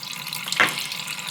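Tap water running into a sink for soaking a foundation makeup brush, a soft steady trickle with a brief louder splash in the middle.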